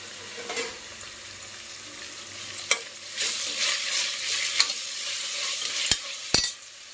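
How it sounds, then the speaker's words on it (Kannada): Mint and coriander leaves fry in ginger garlic paste for a chicken biryani, a soft steady sizzle under repeated stirring scrapes, with a few sharp utensil knocks toward the end and no speech. "ಕೊತ್ತಂಬರಿ ಸೊಪ್ಪು, ಪುದೀನ ಸೊಪ್ಪು ಹಾಕೊಂಡಿರೋ ಫ್ರೈ ಆಗಿದೆ"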